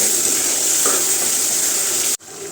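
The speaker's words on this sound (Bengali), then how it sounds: "মশলা আমার কষানো হয়ে গেছে তেল ছেড়ে দিচ্ছে" Spice paste cooks down in oil for a goat meat curry, making a loud, steady close-up sizzle that runs unbroken until an abrupt cut near the end, after which the frying continues more quietly.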